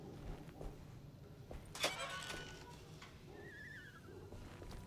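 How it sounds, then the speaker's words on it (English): A horse in the dark, atmospheric world of the video game Alone in the Dark, heard as a brief neighing whinny around the middle, with a fainter rising call later over a low, murky ambient background. "Is that a horse I hear?"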